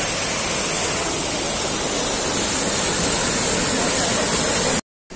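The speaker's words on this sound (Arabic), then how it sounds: "هذا الشلال الأول وهو شلال من عين" Steady, loud rush of a spring-fed waterfall at Ain Asserdoun in Beni Mellal, a dense unbroken roar of falling water filling the whole clip, cutting off abruptly near the end.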